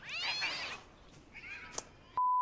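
Cats meowing and yowling in a television drama, a drawn-out wavering cry followed by a second rising yowl and a sharp thump, ending abruptly in a steady tone.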